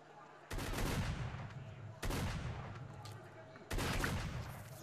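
Heavy gunfire from the S.T.A.L.K.E.R.: Shadow of Chernobyl Lost World mod, three loud sustained bursts of rapid shots each starting abruptly, close and dense, with no talk over them.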